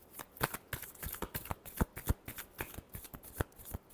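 Tarot cards being shuffled by hand during a reading, a steady run of crisp riffling snaps and flicks, close and fairly loud, with no voices.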